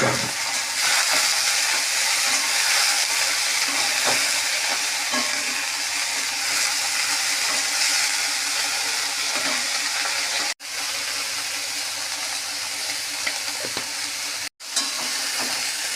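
Drumstick flowers frying in hot oil in a pan with chilli, making a loud, steady, close sizzle that continues throughout, broken twice by brief abrupt dropouts.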